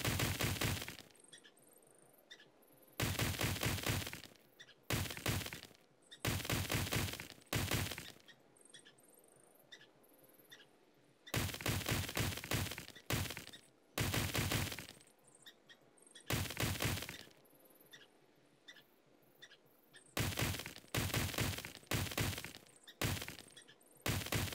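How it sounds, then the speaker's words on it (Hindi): Repeated bursts of gunfire shatter the glass windows of a car in a video game, loud clustered volleys with short gaps between them and no talking. "मैंने सारी विंडो तोड़ दी है"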